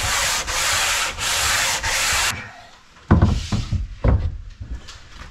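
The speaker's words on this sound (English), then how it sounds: "I'm just gonna give the front face a slight sanding, but with much finer sandpaper." Fine sandpaper worked back and forth over the front face of sapele plywood for a wooden boat's forecastle bulkhead, four steady close rasping strokes followed by quieter knocks and handling.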